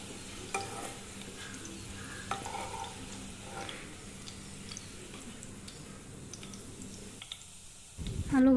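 Potatoes coated in salt and turmeric frying in a pan, a low steady sizzle with occasional stirring clicks, fairly quiet and close, with a brief louder scrape near the end.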